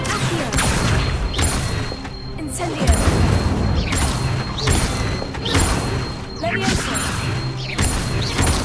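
Spellcasting in the wizarding game Hogwarts Legacy, including the Incendio fire spell, rendered as a repeating series of whooshing, crackling bursts with impacts about a second apart, loud and steady over background game ambience.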